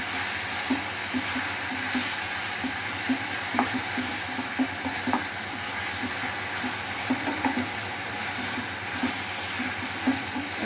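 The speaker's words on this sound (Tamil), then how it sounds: "பச்சை வாசனை போகிற வதக்கணும்" Ginger garlic paste sautéing in a pan for mutton dum biryani, a constant soft sizzle and hiss with light stirring taps, no voices.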